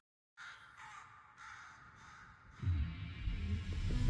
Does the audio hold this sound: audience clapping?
no